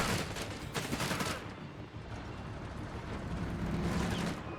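Bursts of MG42 machine-gun fire in the World War II strategy game Company of Heroes 3, loud and dense, with heavy rapid rattling through the first second and more volleys returning near the end, amid ongoing battle noise.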